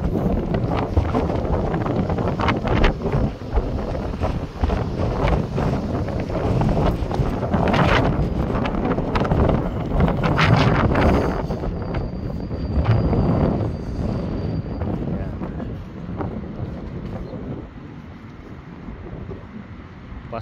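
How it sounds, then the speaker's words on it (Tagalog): Strong gusts of wind buffet the microphone near the Torre Sevilla skyscraper in Seville, a loud, continuous roar that swells and fades in surges over about twenty seconds. "Lakas ng hangin."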